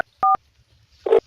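A telephone being dialed: a single crisp keypad tone, followed by a second, rougher electronic beep, set in a quiet room.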